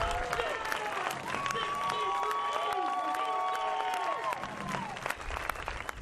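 A crowd in stadium bleachers applauding and cheering, dense clapping with shouts and whistles, moderately distant and sustained, with a voice talking over it.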